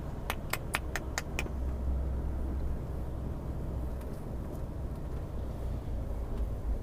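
Road traffic rumbles past in a steady low drone of passing cars, heard from inside a moving vehicle, with a burst of sharp clicks early on.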